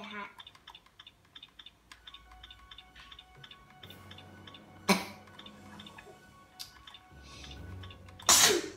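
A sneeze bursts out near the end amid light ticking and clicking, probably plastic Lego pieces being handled, with an earlier sharp burst and scattered small taps across a quiet indoor room.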